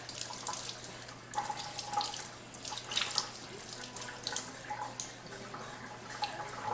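A tap runs with a steady splashing stream as a painting is rinsed under it, with faint drips and a low hum underneath, close by and fairly quiet.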